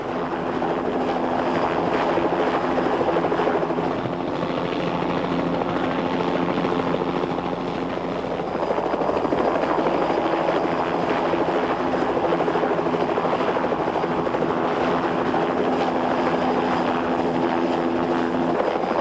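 A helicopter flies steadily nearby, its rotor and engine making a continuous loud drone with a throbbing beat throughout.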